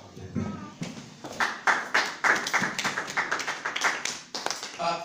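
Church congregation applauding during a service, a fairly close, rhythmic run of steady claps, partly in time, lasting throughout.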